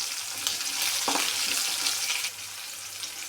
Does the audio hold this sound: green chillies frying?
yes